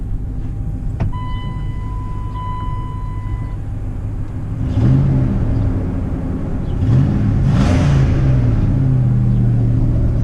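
The V8 engine of a Roadtrek 190 camper van rumbles steadily, then revs up with rising growls while accelerating, loud and close, with no one speaking.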